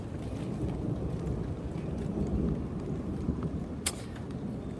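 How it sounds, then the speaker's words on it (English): Low, rumbling thunder rolls in the distance over steady rain-like noise, with no talking. "I think the thunder's in the distance"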